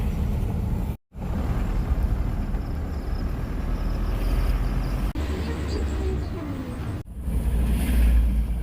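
Heavy road traffic in the Philippines: a continuous low rumble of idling and creeping engines with passing vehicles, steady and fairly loud throughout.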